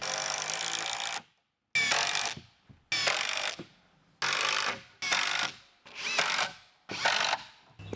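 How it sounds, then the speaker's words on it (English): A power drill drives 3.5 inch Torx screws into wood studs while framing a window wall for a 20x30 shop, seven loud close bursts of whirring, each about a second long and separated by brief pauses. "I'm going to be getting this attached with screws here"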